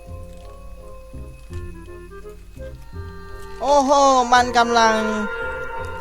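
Wet, squishy meat-cutting sounds from the horror game East Wood Carnival swell loudly over a droning eerie music bed for about a second and a half, while someone talks excitedly.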